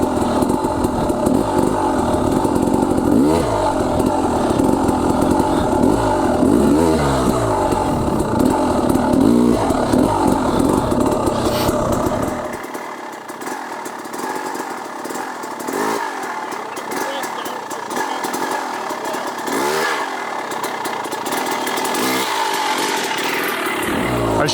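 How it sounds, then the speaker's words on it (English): An enduro motorcycle engine revs and bogs under throttle and clutch control, loud and close throughout, with repeated rising and falling rev swells and a quieter, thinner stretch in the second half. "let's try and focus on my throttle on the right-hand side here."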